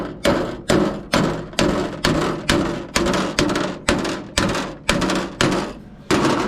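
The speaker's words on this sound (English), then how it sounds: "But I want to use the square hammer, so trying to get right into that corner" A square hammer taps a dent out of the steel boot lid of a 1955 Triumph TR2, working into a corner. About twelve loud, close, evenly spaced metallic blows ring out with no talk.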